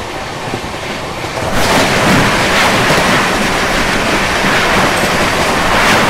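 The Trivandrum Rajdhani Express runs at speed past Mathura Junction, heard from inside a first AC coach as a loud, continuous roar and rattle of wheels on track that swells after a quieter opening second.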